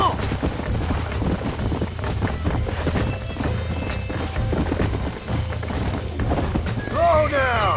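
A horse gallops with rapid, loud hoofbeats in the Red Dead Redemption video game, and a whinny rises near the end while a rider shouts over the hooves.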